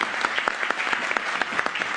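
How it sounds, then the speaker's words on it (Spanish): Applause from an academic audience thanking professors, brisk close-up clapping with individual claps standing out in a dense, even patter for the whole stretch. "Un aplauso."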